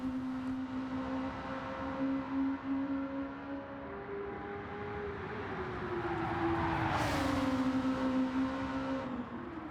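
The Suzuki VGT in Gran Turismo 7, a game car with a high-boost engine, holds a steady sustained engine drone that slowly shifts pitch, then swells into a brief louder rush before settling again.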